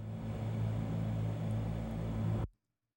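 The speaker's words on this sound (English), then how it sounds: "I really like this spaceship sound that is coming and going." Steady low spaceship drone from a space film ambience, a constant hum with a rumbling undertone that holds level and then cuts off abruptly near the end.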